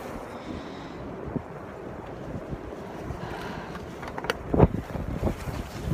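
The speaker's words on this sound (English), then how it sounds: "If the wind doesn't blow me away." Strong wind on a cold, very windy morning buffets the microphone with a continuous low rumble and gusty roar, growing stronger in bursts toward the end, with no talking.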